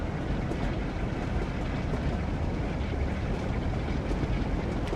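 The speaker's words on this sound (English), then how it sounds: "Just hear the engines whirring up, the pistons moving in and moving up." Train engines whirring and pistons working as power is applied in Train Sim World on the Northern Trans-Pennine route, a steady, dense mechanical rumble heard up close with no talk.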